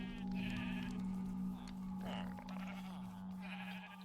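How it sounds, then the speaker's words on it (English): Sheep bleat repeatedly in a Minecraft sheep farm, several clear game-style bleats spread across the moment over a steady low hum, with no talking. "My sheep farm."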